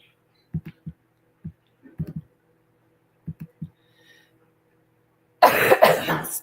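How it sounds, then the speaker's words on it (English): A few short, dry coughs in small clusters, close and fairly quiet, followed by a brief loud rustle at the end. "Excuse me for my cough."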